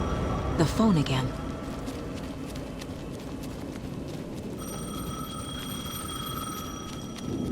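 A telephone rings in a horror video game, Alan Wake 2, with steady repeating ring tones starting midway and continuing to the end over a low ambient game background.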